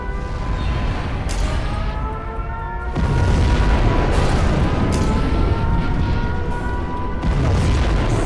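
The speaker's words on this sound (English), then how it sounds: "We have launched our nuclear missile." A nuclear missile launch and detonation rumbles in the video game Command & Conquer Generals, a heavy, continuous booming roar that swells and thickens partway through, with deep low-end surges and sharp cracks layered on top.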